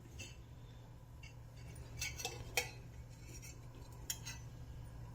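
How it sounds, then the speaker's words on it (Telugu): A kadai frying pan is set down on the stove for tomato curry, a few faint metallic clinks and knocks over a low steady hum, quiet and brief, with no talking. "మూకుడు పెట్టుకున్నా"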